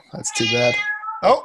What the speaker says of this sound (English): That is my cat who desires attention at the moment.